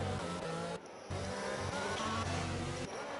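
Race cars in an F2 racing game round the French Grand Prix circuit in a close pack, their engines droning and revving continuously with a brief dip and shifting pitch as they pass.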